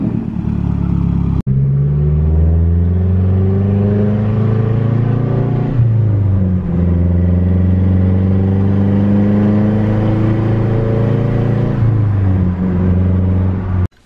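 A Honda Prelude engine runs and pulls away after fresh spark plugs, rising through gears in smooth, steady sweeps with clear shift dips, loud and close.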